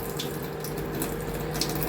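A spoonful of water is poured over cooked pilau rice in a kitchen, giving a soft, steady trickling splash with no talk.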